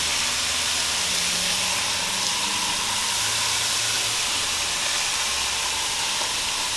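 BBQ chicken sizzles on a grill, a steady, even hiss with a soft low crackle underneath, loud and close with no voices.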